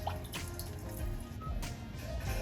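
Rain preset from a Hyundai Ioniq's ambient sound system, a steady close patter of drips and falling water through the car speakers, continuous and even with no voices.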